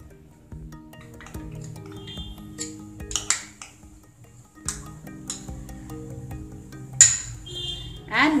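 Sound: mixing butter and condensed milk in a bowl

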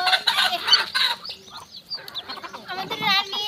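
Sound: Brahma chickens and roosters clucking

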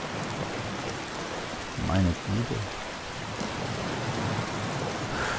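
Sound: rain in the video game Elder Scrolls V Skyrim

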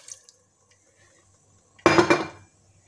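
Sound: water being poured into a pot of rice with vegetables

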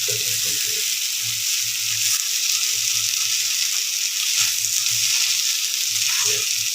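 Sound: potatoes frying in a pan

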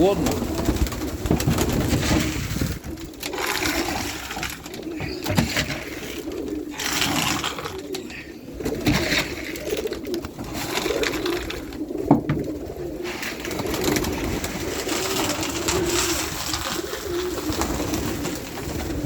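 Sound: pigeons cooing

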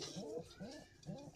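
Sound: pigeon cooing

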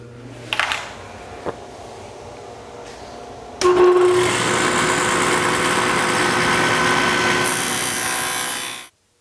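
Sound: table saw dado stack cutting wood

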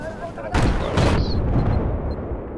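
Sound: tank shooting in video game Battlefield 4

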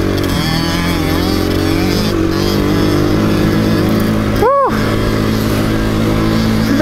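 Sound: dirt bike engine riding

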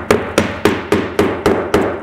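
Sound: hammering nails into asphalt roof shingles

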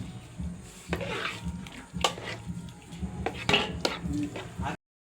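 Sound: mixing mawa and cardamom in a pan for halwa

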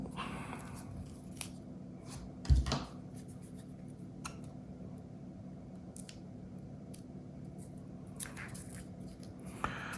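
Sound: unpacking a roll of coins from the bank

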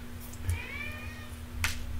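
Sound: cat crying outside the room

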